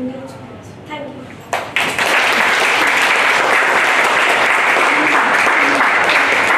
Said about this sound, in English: And round of applause for Rina